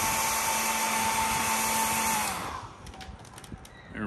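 A hair dryer blows on a watercolor painting, a loud, steady whooshing roar that runs for about two seconds and then cuts off, leaving quiet room sound.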